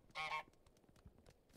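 A goose honks in Untitled Goose Game: a loud double honk near the start, then another honk just beginning at the end, over a quiet backdrop.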